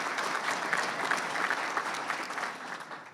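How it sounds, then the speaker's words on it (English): Steady, dense applause from an audience at a technology education center dedication ceremony, honoring State Representative Paul Jacobs; many hands clap evenly and fairly close throughout, with no voices standing out. "Our State Representative Paul Jacobs, you give him a round of applause."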